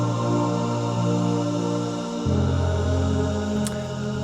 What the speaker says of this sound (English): So that's with the low and mid choirs.